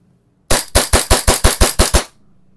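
A Lancer Tactical gas blowback Hi-Capa airsoft pistol fires a rapid string of nine sharp, loud, close cracks in an even rhythm, then stops.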